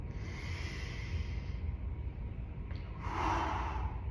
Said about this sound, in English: deep breath in